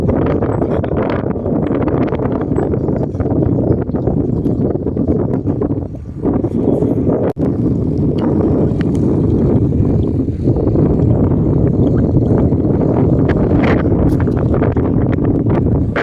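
Strong, steady wind roars and buffets the microphone throughout during outdoor gourami and tiksay fishing, with a brief lull midway and faint rustling underneath.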